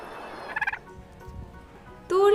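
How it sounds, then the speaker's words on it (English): A turkey gobbles: a short warbling call, then a pause, then a louder, rapid rattling gobble near the end, close and clear. "This is turkey."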